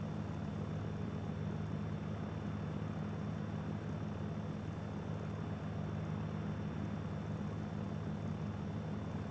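The propeller engine of a Mooney aircraft in a VR flight simulator holds a steady, loud drone with a low hum and an even wash of noise that does not change, and no one speaks.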